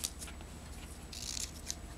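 Scissors snip through card stock in a few quick, faint cuts, close by and otherwise quiet.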